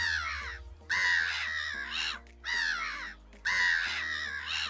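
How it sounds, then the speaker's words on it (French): A laughing gull calls repeatedly outdoors, three loud harsh nasal bursts each lasting about a second, separated by short gaps. "le monarque sur sa terrasse entendit le cri de la mouette rieuse"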